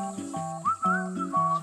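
A shrill, wavering whistle rises and holds over a soft background melody, like steam escaping a pot on the stove.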